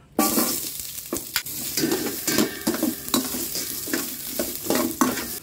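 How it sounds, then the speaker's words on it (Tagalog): Ginger sautéing in a hot pan, loud close sizzling with repeated spatula scrapes and clatters against the pan in an uneven stirring rhythm, no voices. "para natin may init na pan, gisa tayo ng luya."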